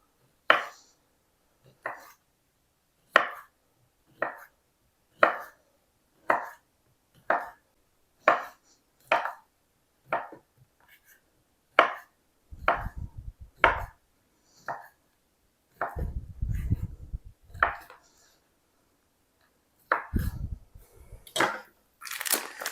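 A knife slices through beef summer sausage and other charcuterie meats on a board, producing a steady series of crisp, close cuts at a regular pace, then denser bursts of sawing and board thumps toward the end, with no talking.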